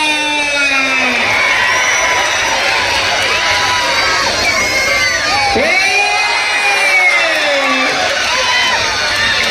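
A crowd at a kushti wrestling bout in Bhosari, Pune roars and whoops continuously, with shouting voices and loud excited calls layered over the dense cheering throughout.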